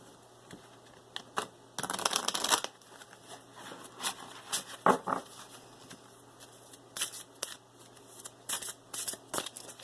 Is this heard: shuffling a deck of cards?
yes